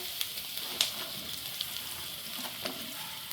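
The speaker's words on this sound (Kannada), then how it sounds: "ಅದನ್ನು ಸ್ವಲ್ಪ 2 ನಿಮಿಷ ಫ್ರೈ ಮಾಡ್ಕೊಳ್ಳೋಣ" Round slices of ridge gourd frying in a pan for a Nati-style sambar, giving a steady soft sizzle with a few light stirring taps and clinks.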